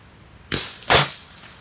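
Air rifle firing lead pellets gives two sharp, close reports about half a second apart, the second louder with a short ringing tail, followed by a faint click.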